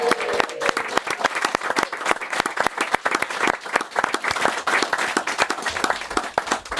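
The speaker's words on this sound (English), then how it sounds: "Give him a big round of applause, everybody" A small audience claps for a departing footballer on a football preview show, sharp distinct handclaps in a lively, uneven patter that stays close and continuous.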